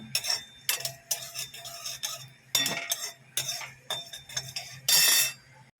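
Cinnamon, cardamom and pepper are dry roasted in a pan, with spices and a utensil clinking and rattling against the metal in short repeated bursts.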